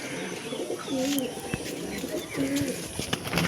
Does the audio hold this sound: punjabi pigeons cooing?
yes